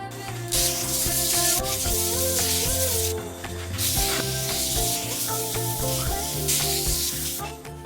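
Steady abrasive rubbing of sandpaper on a lathe-turned sycamore bowl, loud and close, with rhythmic strokes and a rotating hum underneath, running continuously.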